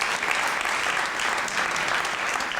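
Dense, steady applause from a large crowd at a 50th birthday celebration, loud and sustained throughout with no pauses.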